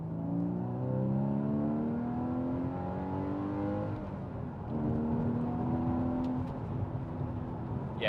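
A Porsche Boxster 981 flat-six engine revs steadily, pitch climbing and dropping in smooth sweeps, close by and loud with no voices.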